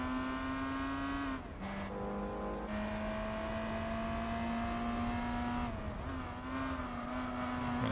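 A Renault Clio B6 engine races in Gran Turismo 4, holding a steady high-pitched whine that dips sharply at two gear shifts before climbing again, with faint tyre noise underneath and no voices.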